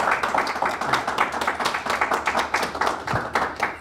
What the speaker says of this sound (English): it's okay to applaud after the opening statements for everybody